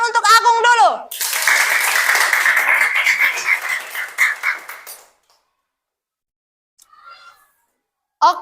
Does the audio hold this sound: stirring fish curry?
no